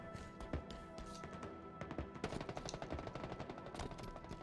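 Gunfire in the video game Halo Infinite sounds as a dense, quiet clatter of rapid automatic shots and scattered bursts, overlapping with in-game effects and a faint background drone.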